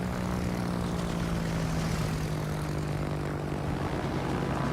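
Propeller aircraft engines in World of Warships: a continuous loud droning hum of planes that holds steady and slowly shifts in pitch throughout, with no talk.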